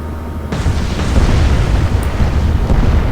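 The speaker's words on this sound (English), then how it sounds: "5 torpedoes will send the Admiral Shear under." Torpedoes striking the German heavy cruiser Admiral Scheer in the naval video game Atlantic Fleet, heard as a loud, sustained rumbling explosion that starts abruptly and rolls on without talk.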